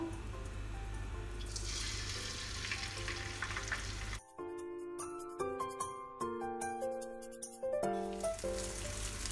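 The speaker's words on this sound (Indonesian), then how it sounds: "panaskan wajan kemudian beri sedikit minyak goreng ini minyaknya kurang lebih 7 sendok makan ya lalu masukkan telur terlebih dahulu" An egg fries in about seven tablespoons of cooking oil in a hot wok for fried rice, giving a loud, steady sizzle for roughly four seconds before music takes over.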